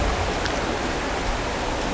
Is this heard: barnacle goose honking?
no